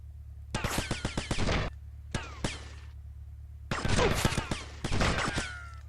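Mac submachine gun fire in GTA Vice City comes in four rapid, loud automatic bursts separated by short pauses, each a tight rattle of shots over a steady low hum.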